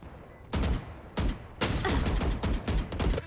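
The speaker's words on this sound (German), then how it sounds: "Schießen." Rapid gunfire in the video game Valorant, loud close bursts of automatic shots in several volleys with short gaps, the last volley running almost continuously.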